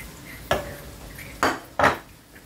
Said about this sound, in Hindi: ये घेवड़ा डालेंगे।